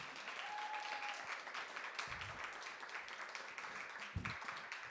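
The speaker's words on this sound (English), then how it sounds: "Can we give one more round of applause to both Marisa and Reed?" A spoken word event audience gives a round of applause, sustained clapping throughout five seconds with a couple of low thumps and a brief tone.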